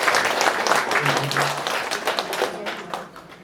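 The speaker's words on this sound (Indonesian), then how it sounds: "Dimohon untuk para hadirin tepuk tangan sekali lagi" Steady applause from a crowd, many hands clapping together for a few seconds before gradually thinning out toward the end.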